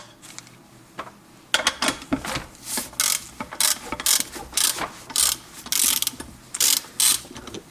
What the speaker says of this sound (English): And then again my wrench.